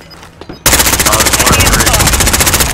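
Rapid automatic gunfire in the Modern Warfare video game, a loud sustained burst of evenly spaced shots that runs about two seconds after a short stretch of quieter game noise.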